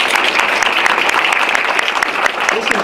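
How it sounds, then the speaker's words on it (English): A big round of applause from an audience at a community stop-in center event, steady dense clapping sustained throughout without a break. "Can you give them a big round of applause?"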